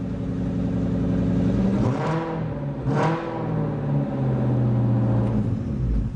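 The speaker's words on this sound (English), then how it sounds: "It's a straight exhaust with glass packs." A Ford Mustang engine with straight exhaust and glass packs revving close in a garage, a deep rumbling idle broken by two sharp throttle blips.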